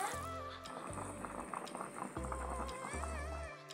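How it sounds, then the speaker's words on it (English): Pig foot soup with green bananas, dumplings, vegetables and peppers boils in a pot, giving a steady, continuous bubbling that runs the whole time alongside tonal, music-like sounds. "Here is the pigfoot boiling away"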